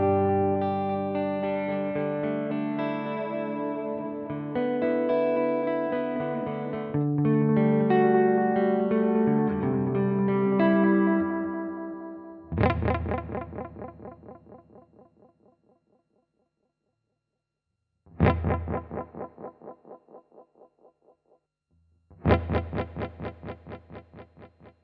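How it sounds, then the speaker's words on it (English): An electric guitar runs through a digital delay pedal, first as a sustained chordal passage, then as single struck notes whose exact repeats decay in evenly spaced echoes with silent gaps between. "then we have the digital delay that will be a copy of your original sound, so a clone"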